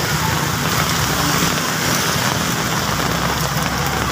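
Heavy rain pours steadily onto a street where a vendor sells food, a dense, continuous hiss of drops on pavement with no pauses, loud and close throughout.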